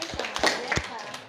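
A classroom of students gives a short round of applause, a few quiet scattered claps over about a second with voices talking.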